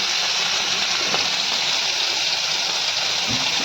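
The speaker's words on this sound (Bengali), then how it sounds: "আমার চিংড়ি মাছ ভাজতে দিয়ে দিয়েছি, হালকা ভাজবো।" Shrimp frying lightly in oil give off a dense, steady hiss and sizzle that continues unbroken at an even level, with no voices.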